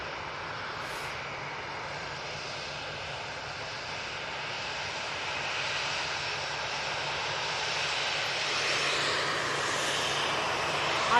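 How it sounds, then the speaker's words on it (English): An Icelandair airliner touching down at Manchester Airport, heard as a steady distant jet engine roar that swells gradually louder toward the end, with no talking. "Iceland Air touching down."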